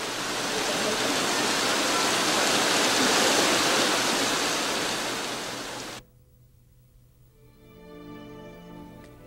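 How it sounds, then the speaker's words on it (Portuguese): Water fountains splash over gilded bronze sculptures at an entrance, making a loud, steady rushing spray for about six seconds before it cuts abruptly to quiet, tonal background sounds. "com as suas espetaculares fontes de água que banham as esculturas em bronze dourado na entrada"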